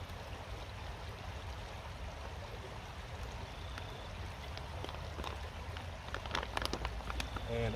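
A water purification bag dipped into a creek, with soft splashing and trickling near at hand over a steady stream flow that grows a little louder toward the end.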